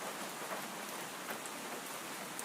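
Steady rain falls soft and even, a dense, unbroken hiss of drops with no voices or other sounds on top.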